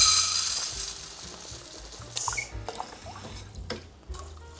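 Tap water splashes into a pot of rice for washing in a Japanese kitchen, a loud close gush at first that thins into intermittent trickles, drips and light clinks of the pot.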